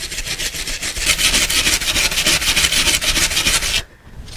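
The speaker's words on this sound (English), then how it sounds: "Okay, so the wire brush scratched up both of them pretty good." A wire brush scrubbing back and forth across powder-coated metal, producing loud, close, rapid rasping strokes in a steady rhythm that cut off abruptly near the end before a final scrape.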